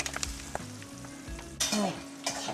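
Onions just added to hot mustard oil with cloves and garlic sizzle and crackle steadily in a pan for a Bengali mushroom masala, with bursts of stirring and clattering utensils up close, no voices.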